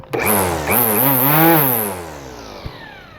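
A Black and Decker electric string trimmer whirs up to speed close by, holding a loud, buzzing whine that wavers slightly before winding down, followed by a couple of brief clicks.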